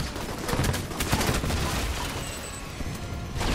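Missiles and gunfire in the video game Alpha Protocol: a dense, continuous barrage of launches and bursts rolling steadily with no pause, fairly loud and dominating the mix, no talking.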